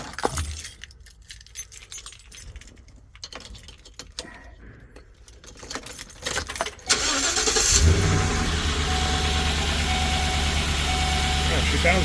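A car engine cranks and fires after a spark plug replacement, following jangling keys and clinks, then settles into a loud, steady idle that runs for several seconds.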